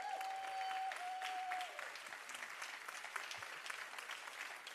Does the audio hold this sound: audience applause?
yes